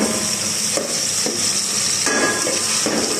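Onion, garlic and tomato sautéing in a pan, a constant sizzle with repeated scraping strokes of a utensil stirring at a steady rhythm, no talking.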